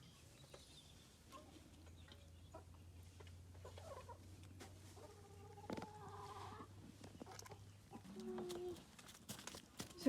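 Free-range chickens in a backyard poultry corner give soft, scattered clucks at a distance over a quiet outdoor background with a low steady hum.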